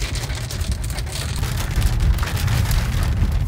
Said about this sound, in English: Why is it raining like so?